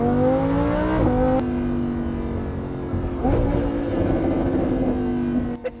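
Lamborghini Huracán LP610-4 engine and exhaust while driving: a loud, steady, close drone with shifting pitch and a brief drop and rise as it changes gear, then holds again.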